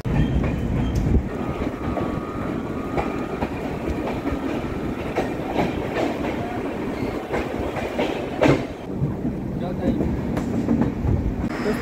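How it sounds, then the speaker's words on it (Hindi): The Purvanchal Express pulls out of Jhajha station, wheels clacking in a steady rhythm under continuous rumbling, with a brief louder burst partway through and faint voices in the background. "7 मिनट का ठहराव के बाद हमारी ट्रेन झाझा को डिपार्ट कर चुकी है।"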